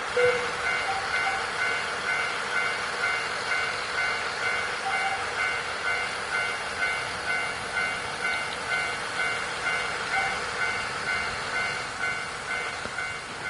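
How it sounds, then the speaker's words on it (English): A train rolls steadily along in a Japan-set video game, a continuous mechanical rumble with a regular clatter of wheels over rail joints, held at a constant loud level with no talk. "I can't read what you wrote over the train."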